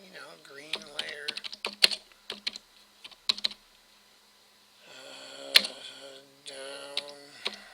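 Computer keyboard typing at a milling workstation: bursts of quick close clicks and taps with pauses, a tonal machine whine underneath, no talking.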